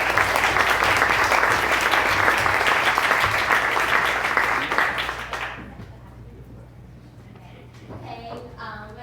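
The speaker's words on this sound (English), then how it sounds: "if you give them a round of applause" Loud applause from an audience at a hack night event fills the room for several seconds, then fades out, leaving quiet room tone and a few faint voices.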